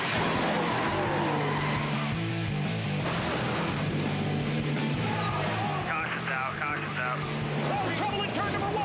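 NASCAR stock cars wreck and skid on a racetrack during a 2010 race, with roaring engines and squealing tires forming a dense, loud wash while radio voices talk over the commotion.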